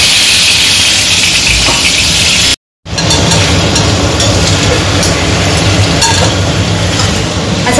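Chicken fries in the same hot oil previously used for crisp-fried onions for a biryani, giving a loud, dense, continuous sizzle close at hand, broken only by a brief cut, with no talk.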